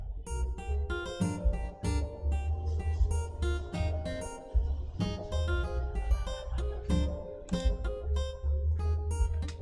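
A plucked virtual acoustic guitar plays a flowing melody over a steady bass line in a dancehall reggaeton beat. Notes ring briefly one after another at a moderate pace, with no voices.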